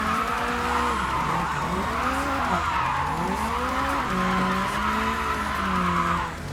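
Tires squeal long and loud as a car drifts in the JDM driving game, the screech wavering in pitch over a steady engine drone, with no voices.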